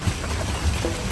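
Steady rain in Costa Rica hissing and pattering on a surface, a constant wash of noise with no voices.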